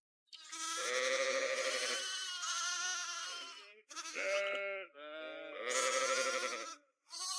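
Goats in a herd being driven along by a herder bleat loudly and repeatedly, several overlapping wavering cries in quick succession with brief pauses, close and clear, with no talking.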